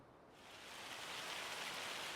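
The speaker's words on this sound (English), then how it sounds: "Oh, that sounds like hail." Hail falls in a farming video game, a soft, dense hiss of countless tiny impacts that swells from quiet to a steady, even roar over a couple of seconds, with no talk.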